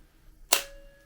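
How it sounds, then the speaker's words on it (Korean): The mirror of a Pentax LX film camera closes at the end of a bulb-mode exposure, giving one sharp, close mechanical snap that decays quickly into a faint room hum. No voice is heard over it. "내리면 그때 미러가 닫혀요"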